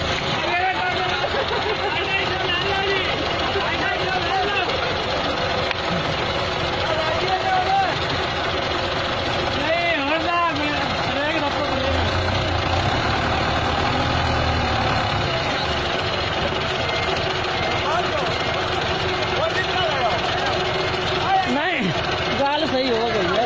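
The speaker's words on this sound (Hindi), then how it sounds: "लो जी, ट्रैक्टर का बड़ा सख्त मुकाबला है जी।" Massey and Belarus tractors run their engines in a tractor pulling contest, a loud continuous diesel drone with rising and falling revs, under a busy crowd and a talking voice.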